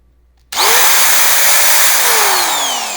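A Parkside electric sheet metal cutter switches on with an abrupt start and spins up to a loud, steady, high-pitched motor whine that holds close and constant, alone without talk.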